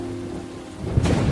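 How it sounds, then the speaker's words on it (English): Storm sound effect with heavy rain hissing steadily and a low rumble of thunder swelling toward the end, close and loud with no voices. "and faster came the falling rain"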